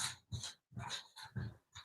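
Pet dogs pant close by in quick breathy bursts, a steady run of rough huffs separated by short pauses, soft and alone.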